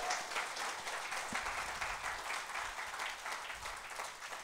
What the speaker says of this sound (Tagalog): Come on, yung palakpak na malakas!